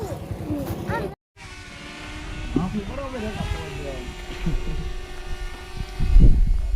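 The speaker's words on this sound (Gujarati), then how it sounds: "ડ્રોન કેમેરા હાલે છે" A drone camera flies over a wedding photo session, giving a steady, thin mechanical whine that holds under people talking nearby.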